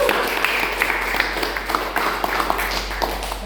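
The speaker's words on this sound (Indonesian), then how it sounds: "yang tepuk tangan buat Kakak Hafiz." Audience at a school examination event in Indonesia claps, a spread of light, steady hand claps under a noisy room with some background voices.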